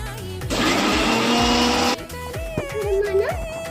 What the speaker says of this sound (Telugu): మిక్సీ వేయాలి.